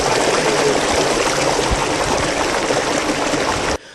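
Water pours and splashes steadily nearby in a constant rushing flow, cutting off abruptly at the end.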